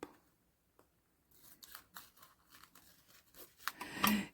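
Scissors snip through paper while shaping a handmade envelope, a few sparse cuts early, then a denser run of crisp snips and rustling that grows louder and busier toward the end.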